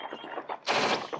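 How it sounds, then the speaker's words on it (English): Short recording of militants firing a rocket launcher and guns to bring down a helicopter, with a rattle of rapid gunfire followed by a louder burst of noisy blast, distant and rough in quality. "that was actual audio of militants taking a rocket launcher and shooting down a real helicopter"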